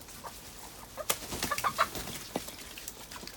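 A small flock of hens clucks and murmurs inside a backyard coop, with close, irregular soft clucks and a few sharper calls, plus a brief flutter of wings.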